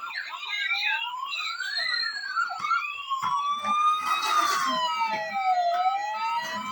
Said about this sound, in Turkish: Siren sesleri, korna sesleri.